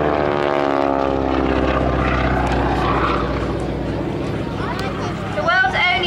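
A propeller aircraft flown by a formation wing walking team drones loudly overhead at an air show, a steady engine roar that shifts as it passes, with crowd chatter underneath.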